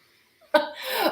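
A single short, sharp sneeze bursts out close by after a moment of near silence, trailing off in a breathy exhale.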